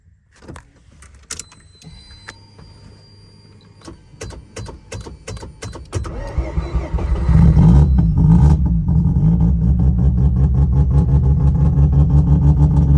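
A car fitted with a Rev 2 exhaust starts up cold and runs slightly rich, with starter clicks and whirs before the engine catches and settles into a loud, steady, close idle.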